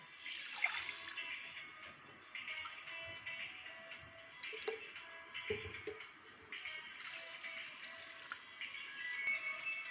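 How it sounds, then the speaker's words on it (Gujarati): Water pours steadily into a kadai holding about 200 grams of sugar on a gas stove, a continuous splashing rush with a few louder sloshes and no talking. "એના પ્રમાણમાં ચાર વાટકા આપણે પાણી ઉમેરીશું"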